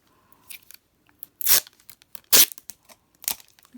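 Sticky tape is pulled from the roll and torn off in a few sharp, close ripping bursts separated by quiet pauses while a paper flower craft is assembled.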